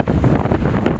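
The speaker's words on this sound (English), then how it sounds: "I swear this looks like the windiest place I've ever seen" Strong wind on a beach in Iceland buffets the microphone in a loud, continuous roar with gusty rumbling.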